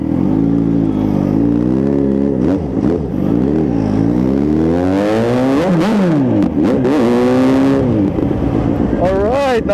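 A car engine revs repeatedly through a newly fitted custom muffler exhaust pipe at a muffler shop, giving loud, close, rising and falling pitch sweeps with throaty blips and brief drops between revs.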